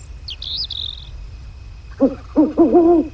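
A hooting owl call sounds from a turkey hunting video game, a few quick wavering hoots up front, then a turkey gobbles in several loud bursts close by.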